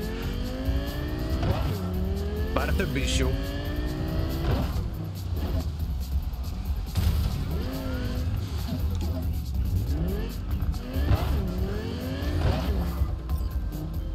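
A sports car engine in the video game Cyberpunk 2077 revs and shifts gears repeatedly, whining up and down in rising sweeps, with someone talking briefly over it.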